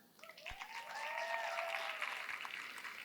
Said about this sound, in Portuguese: com uma calorosa salva de palmas